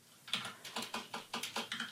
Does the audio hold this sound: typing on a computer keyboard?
yes